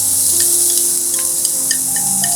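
Onions sizzling in hot olive oil in a pan, a steady bright hiss close up with scattered small pops and crackles throughout.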